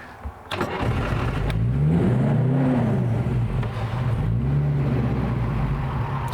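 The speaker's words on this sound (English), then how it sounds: "Turn the ignition on." A Blower Bentley classic car engine starts with a brief cranking burst, then catches and runs loud and close, its deep rumble rising and falling through revs before settling into a steady idle.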